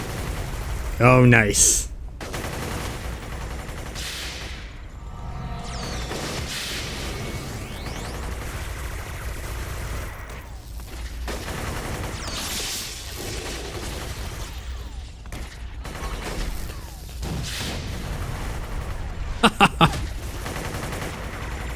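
A grenade blast and scattered gunfire in a Warhammer 40,000 video game, with a loud burst near the start, a steady rumble of combat underneath and a sharp crack of shots near the end, while players talk throughout.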